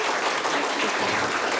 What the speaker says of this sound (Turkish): Şöyle kuvvetli bir alkış alabilir miyim?